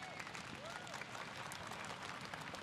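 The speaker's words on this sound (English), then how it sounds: "Can we get another big round of applause for all our competitors," A crowd at a surf competition finals day in Sydney applauds for the competitors, a brief dense wash of clapping and crowd noise, heard from a distance and fairly faint.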